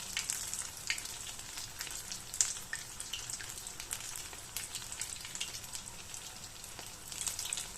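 Spinach cheese balls deep frying in hot oil, giving a steady crackling sizzle with dense bubbling pops, close and continuous, with no talking.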